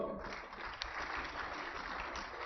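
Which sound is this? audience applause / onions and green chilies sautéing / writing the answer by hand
audience applause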